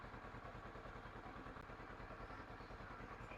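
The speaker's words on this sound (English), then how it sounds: "When the engine is idling" A Kawasaki ER6f motorcycle with a headlight fault idles steadily nearby, its engine producing a continuous, even clattering throb, heard alone at low volume.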